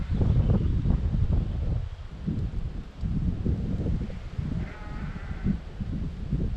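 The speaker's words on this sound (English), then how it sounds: "I don't know if you can hear the sheep in the background." Several sheep bleat in rough, overlapping bursts nearby, with wind and rustling in the background and no talking.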